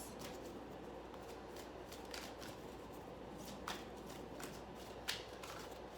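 Oracle cards are shuffled by hand in a quiet room, making a soft, steady riffling rustle broken by a couple of sharper card snaps, with no one speaking.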